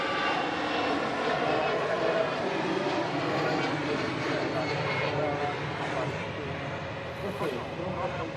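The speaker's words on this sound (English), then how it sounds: "a beautiful shot of the Aer Lingus arriving onto stand to wrap up the stream" Aer Lingus airliner rolling onto its stand, a steady broadband jet engine roar held at constant loudness throughout, with no gaps or quiet moments.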